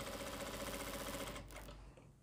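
A sewing machine runs steadily, stitching along a folded edge of fabric, with a continuous rapid whirring hum that cuts off near the end and leaves brief quiet handling noise.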